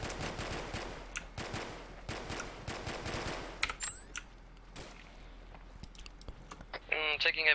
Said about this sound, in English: Taking heavy fire. I need suppressing fire.